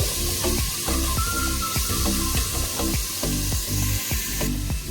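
Green chilies sizzle steadily in hot oil with ginger-garlic paste while mutton kurma cooks, loud and close, punctuated by repeated scraping and stirring knocks of a spoon against the pan.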